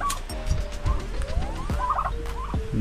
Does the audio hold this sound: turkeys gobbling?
yes